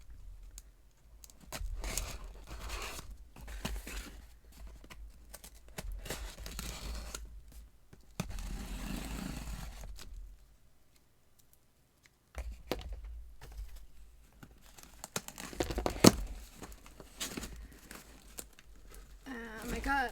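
Gina K Designs card kit packaging is opened and handled, soft crinkling and rustling of plastic and paper with light taps and shuffles, quiet and close, while someone talks intermittently.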